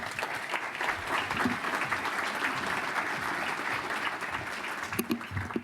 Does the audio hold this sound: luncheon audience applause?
yes